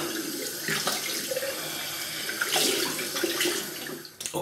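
Water from a tap runs steadily into a sink while a vintage Gillette Heritage safety razor is rinsed under it, with brief splashes and clinks near the end.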